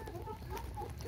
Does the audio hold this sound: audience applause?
no